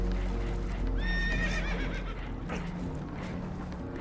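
Horses whinny and stamp aboard a damaged, leaking boat in the Red Dead Redemption 2 video game, one clear rising neigh over steady clopping hooves and a loud low rumble of water and engine.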